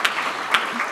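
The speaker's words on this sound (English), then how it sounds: "Keep on clapping." An audience at a Camp Enterprise awards event claps steadily, a dense, loud wash of applause with a few sharper individual claps standing out near the microphone.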